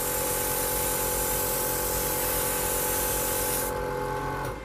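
An airbrush sprays paint with a steady, close hiss that holds continuously for several seconds and then cuts off abruptly near the end, with no talking.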